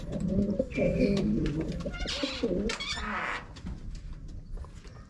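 Pigeons cooing in a loft, soft low throaty coos repeating close by over a steady background, with a few brief higher calls mixed in.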